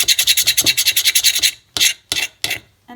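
Metal spoon scraping burnt residue off a pan: a quick run of about a dozen rhythmic rasping strokes, close and loud, then three slower, separate scrapes.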